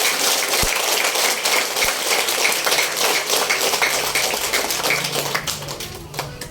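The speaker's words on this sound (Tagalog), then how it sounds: "Pwede ho ba yung nagpapasalamat sa Diyos, pumalakpak ng malakas?" A Filipino church congregation claps loudly in thanks to God, a dense, steady wash of many hands applauding close by, fading slightly at the end.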